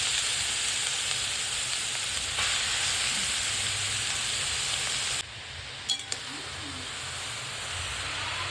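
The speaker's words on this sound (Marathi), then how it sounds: "त्याच्यामध्ये आता आपण किसलेलं गाजर टाकून घेऊया." Grated carrot fries in hot oil for carrot halwa, a constant soft sizzle and hiss, near and even, that drops quieter partway through, with a few brief clicks or stirring knocks.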